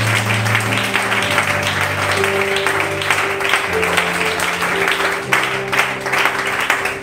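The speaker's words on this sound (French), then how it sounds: "Acclamons la parole de Dieu." A congregation applauds during a French-language church service: sustained, dense clapping fills the room over steady held instrumental tones, with no voices standing out.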